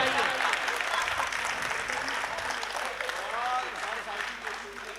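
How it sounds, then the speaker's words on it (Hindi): Crowd at a Hindi poetry recital (mushaira) in Pant Nagar applauding, a continuous wash of clapping with a voice speaking over it. "तालियां बजाइए।"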